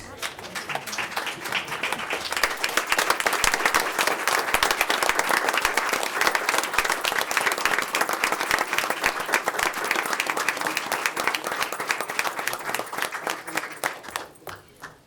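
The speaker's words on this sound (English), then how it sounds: "can we all please stand to give them applaud for their contributions?" Sustained standing applause from a large crowd at a board of education meeting, dense clapping that builds and holds steady before fading out at the end.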